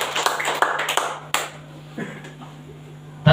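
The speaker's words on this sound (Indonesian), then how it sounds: "Tepuk tangan." Brief, dense clapping from a small group at an elementary school ceremony lasts about a second, then dies away into quieter room sound.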